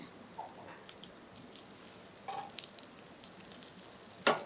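Chicken breast fries in a pan skin side down, a soft steady sizzle close by with light crackles and one sharper spatter near the end, no talking.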